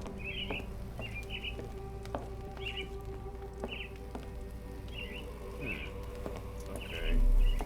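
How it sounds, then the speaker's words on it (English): Birds chirp in the video game Sherlock Holmes The Awakened: short, bright calls repeat every half second or so over a steady low ambient hum, with no voices. "So that's why they're keeping the birds."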